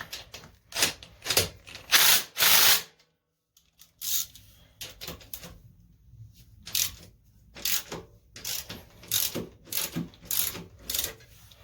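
A ratchet loosens a 14 mm bolt on the engine of a Yamaha Virago 1100 motorcycle during motor removal, giving close bursts of rapid clicking broken by short silent pauses.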